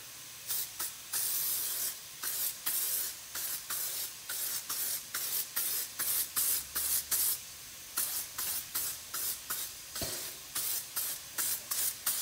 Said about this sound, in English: So let's get our first coat of Hyundai gray paint on here.